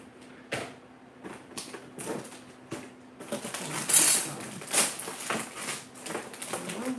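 A knife chops a purple onion on a cutting board, giving a series of sharp, irregular knocks and taps that grow busier and slightly louder toward the end, with no talking.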